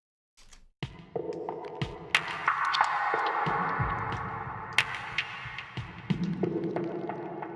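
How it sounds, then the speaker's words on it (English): A basic drum machine track from the music for the game Subnautica: Below Zero: punchy kicks and sharp hits over a sustained, wavering synth tone, fairly loud and steady with no voices. "That is a very basic drum machine track"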